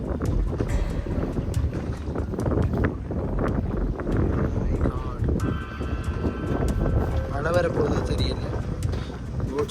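Strong wind buffeting a boat out at sea, a constant loud roaring rush with gusty noise against the microphone, while people talk over it.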